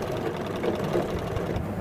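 Sewing machine stitching through a doubled layer of old saree fabric, a steady continuous mechanical whir with a fast needle rhythm, close and fairly loud throughout, no voices.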